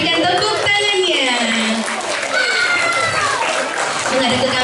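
Applause for a prize winner at a Ramadan children's awards night at a mosque, with crowd noise and clapping beneath a loud, echoing voice.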